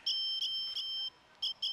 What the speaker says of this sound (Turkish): bu siren sesi büyük ihtimal sizi çok rahatsız edecek